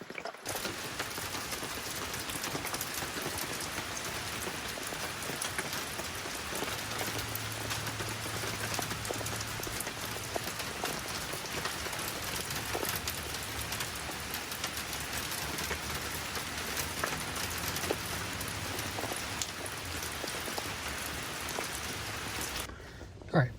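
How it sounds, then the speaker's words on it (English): Steady rain falls on a parked car, a dense even patter on the roof and windows that continues throughout, with a soft low vehicle-interior hum underneath. "It's kind of rainy though"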